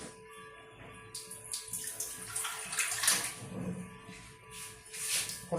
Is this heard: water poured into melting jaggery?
yes